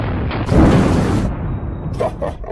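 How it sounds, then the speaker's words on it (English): Several loud gunshots fired at a Bible, close and booming, the blasts running together over about a second and followed by fainter pops and voices speaking nearby. "Great shooting, Nisu."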